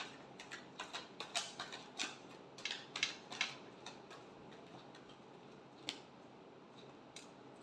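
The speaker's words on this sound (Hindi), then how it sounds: "Last shuffle." Tarot cards are shuffled close up in a quick run of crisp riffling flicks, then a pause and a few isolated snaps, faint and with no talking.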